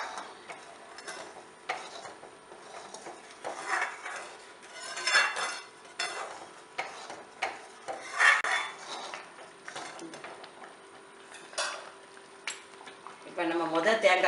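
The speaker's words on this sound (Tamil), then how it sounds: "ஏலக்காய் பொடி எல்லாம் போட்டு நல்லா கிளறி கொடுத்துக்கிட்டே இருங்க." A utensil scrapes and clinks against a pan in an irregular rhythm, steady stirring of thick jackfruit pudding with cardamom powder, close by with faint kitchen background.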